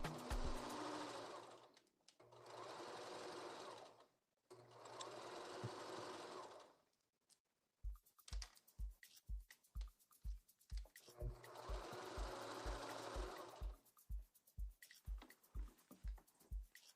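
A sewing machine running a zigzag stitch in several bursts of steady whirring, separated by short pauses, then a stretch of rhythmic individual stitch thumps mixed with further runs.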